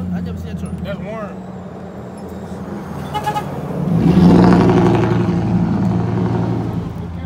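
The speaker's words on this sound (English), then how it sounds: "That sound like a truck." A truck engine revs up close, swelling into a loud, rumbling drone halfway through and holding steady, with people talking over it.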